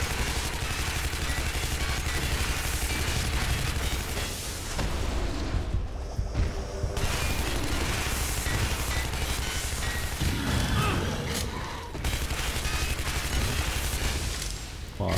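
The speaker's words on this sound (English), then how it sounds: "the SMG does not do a lot of damage" SMG bursts from Shadow Warrior rattle almost continuously, a dense wall of rapid gunfire and impacts, loud and steady, pausing briefly midway before resuming.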